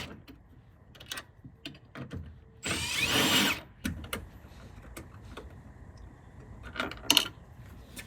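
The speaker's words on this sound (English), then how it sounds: "I'm going to get my 8mm socket and put it on my impact driver just to take it off" An impact driver with an 8mm socket spins out mirror bolts on a 2007-2014 Ford F-150, one loud close whirring burst of about a second amid scattered clicks and tool handling.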